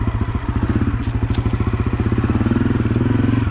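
A Honda CRF250F dirt bike engine runs steadily up close on an autumn trail ride, its pulsing exhaust putting out a continuous throb that rises a little in pace near the end, with a few light clatters over it.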